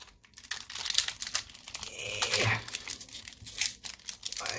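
A Pokemon card pack is torn open by hand, with close crinkling and crackling of the wrapper and a few sharper tearing rips over several seconds.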